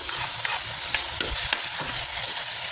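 Tomato goes into garlic and onion sautéing for adobong pusit, a squid dish, giving a steady, bright sizzle broken by a few scraping stirs, up close and without voices.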